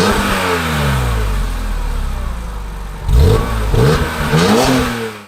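A BMW E46 M3 with stock exhaust is revved up and down, a loud, smooth rising and falling engine note held high, then several sharp blips near the end, no voices.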